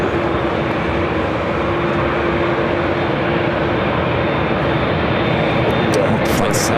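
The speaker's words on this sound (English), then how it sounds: "Flight 7 now rolling down at 24 left." An airliner rolls down runway 24 left at LAX for takeoff, a loud, constant engine roar with a steady hum, heard from a distance with faint radio chatter near the end.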